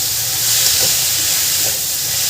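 Grated carrots sautéing in a pan for Marathi-style carrot halwa give a steady, soft hiss and faint sizzle, close and continuous with no talking.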